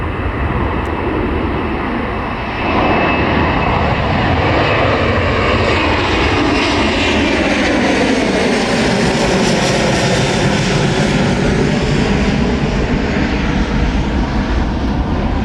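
A Boeing 737 MAX jet takes off at Miami International Airport, its engines building into a loud, sustained roar that swells and shifts in pitch as it climbs past at close range, with no voices.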